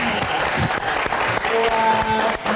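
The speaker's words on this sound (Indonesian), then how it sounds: "Kita berikan tepuk tangan sekali lagi untuk Dokter Ayu." An audience in a live talk-show studio breaks into loud, dense applause for Dokter Ayu, sustained clapping close and full throughout, with faint voices beneath.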